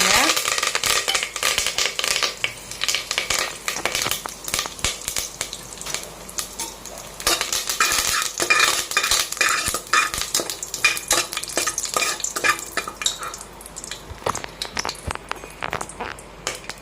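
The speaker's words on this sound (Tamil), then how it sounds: "நெய் சூடாயிடுச்சு இப்போ வந்து நம்ம வந்து பட்டை கிராம்பு பிரிஞ்சி இலை கருவேப்பிலை இது எல்லாத்தையும் இதில் போட்டுருங்க" Cinnamon, cloves, bay leaf and curry leaves crackle and spit in hot ghee while being stirred for paneer biryani, with a steady loud sizzle broken by frequent spoon scrapes against the pot.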